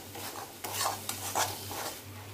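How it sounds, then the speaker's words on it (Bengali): Jackfruit curry being sautéed in a pan with turmeric and coriander-cumin powder, a quiet sizzle under a few soft scraping stirs, close and fairly low in level. "খুব সামান্য একটু হলুদ আর ধনে জিরে গুঁড়ো এইগুলো দিয়ে আবার কষাবো"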